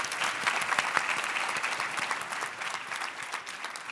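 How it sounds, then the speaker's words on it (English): A conference audience at a small business finance forum applauds a panel, a dense, steady patter of clapping from many hands at moderate distance, fading slightly toward the end. "How about another round of applause here for the panel?"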